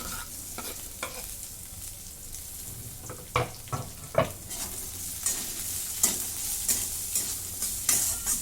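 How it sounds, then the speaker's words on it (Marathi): Garlic and green chillies fry in a pan under repeated spatula stirs and metallic scrapes, irregular knocks over a soft continuous sizzle, close by and without speech. "लसूण दोन तीन मिनटं असं परतून घेतला लसणाचा वास आता ह्याच्यामध्ये ही मिरची टाकून घेते"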